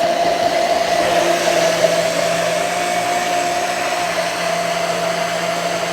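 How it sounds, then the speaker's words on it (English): A blender whirring steadily as it purees cauliflower for mac and cheese, a loud constant motor drone with a steady pitch and no pauses. "I'm gonna keep blending it and I'm helping it out a little bit."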